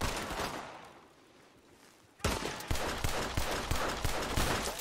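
Gunfire in the Red Dead video game: after a quieter stretch, a loud burst of repeated sharp shots breaks out and keeps cracking in an uneven rapid rhythm, close and dominant, with no talk over it.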